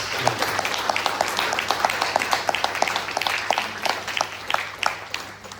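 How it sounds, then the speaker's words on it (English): Applause at a devotional music performance, fewer hands, so individual claps stand out in a quick, fairly regular rhythm, close and loud, steady for several seconds before tapering slightly. "they also deserve a round of applause"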